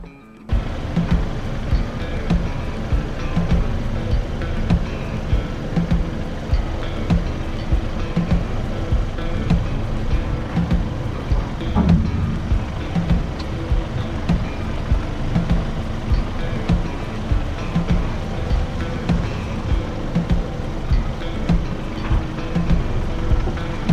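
A Toyota Hilux Rugged X pickup crawls in four-wheel-drive low with hill descent engaged, giving a loud, steady engine and drivetrain rumble with faint rattles throughout.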